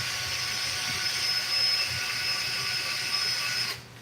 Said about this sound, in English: All this does is just straighten it out when you twist it with a drill